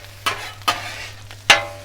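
Egg sizzling as it fries on a Blackstone griddle, with three sharp metal spatula chops scraping the hot flat-top at uneven intervals over a steady low hiss, close and clear with no talking.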